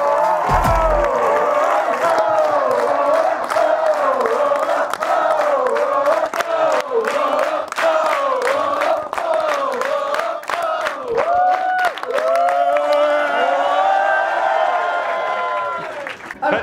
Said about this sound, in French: Je veux énorme d'applaudissements pour Pierre Cross